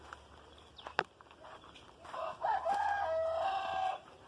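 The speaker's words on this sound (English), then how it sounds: "You can hear some roosters." Roosters crowing on a farm with a vegetable garden, a fairly distant, moderately loud cock-a-doodle-doo rising and holding near the end, after a sharp knock and quieter clucking against a soft outdoor background.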